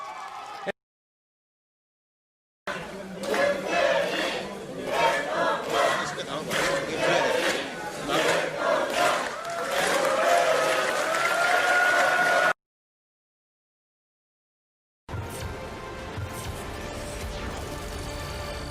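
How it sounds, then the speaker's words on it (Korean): A crowd at an election-night gathering bursts into loud applause and cheering as a landslide win is forecast, with dense clapping and shouting in two bursts separated by silent gaps. "여기저기 큰 박수와 함께 커다란 환호성이 터져 나왔습니다"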